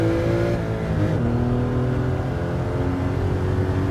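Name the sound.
Porsche 911 Carrera RS (964) engine, Gran Turismo 7 video game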